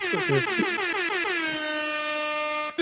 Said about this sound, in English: Ziggy, can we get the This Shit More Than a Game air horns for everybody who left the super chat last week?